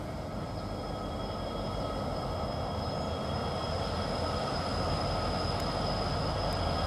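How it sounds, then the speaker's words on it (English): Train rolling past on live tracks beside a fenced area, a continuous loud rumble and rattle of wheels on rail with a faint high squeal, close and steady throughout with no talk. "I just wanted to catch the head-end locomotive anyway."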